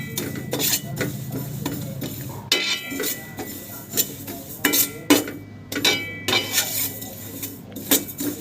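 Roasted black sesame seeds pounded by hand, probably in a mortar: repeated irregular knocking thuds with a bright clinking edge, fairly close and steady, with no speech.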